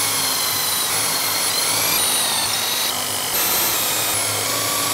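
A loud, continuous drill whine grinds on steadily throughout, with shifting pitch as a 6mm bit with a depth stop bores into wood for a custom bass guitar.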